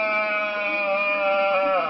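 A single sheep lets out a long, steady bleat near a country lagoon, loud and close, its wavering voice holding for about two seconds before trailing off, with no other sounds around it.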